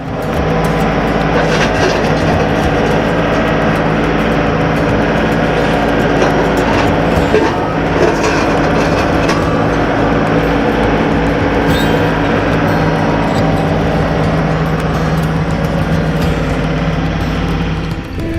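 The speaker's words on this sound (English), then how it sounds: "Now I'm gonna take the tractor with the grapple, and I've got a place to carry it and dispose of it" A John Deere 35G tractor fitted with a grapple hauls broken concrete, its engine droning loud and steady throughout with a constant low mechanical rumble and rattling, close by and without talk.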